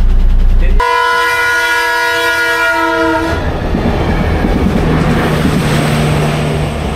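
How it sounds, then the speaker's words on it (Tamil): A loud train horn blares in a long steady tone, then a heavy railway track inspection engine rumbles past close by at a level crossing with clattering wheels and a roaring mechanical drone. "ட்ரெயின் கிடையாது, ட்ராக் செக் பண்ற மாதிரி இன்ஜின் இருக்கு."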